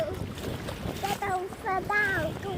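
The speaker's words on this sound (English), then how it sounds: "It's windy." Wind buffets the microphone while kayaking at the beach, a steady low rushing roar throughout, with people talking over it near the end.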